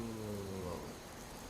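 Rain falls in the Dragon Quest Builders 2 game world as a faint, steady patter, with a low humming tone that fades early on and no voices.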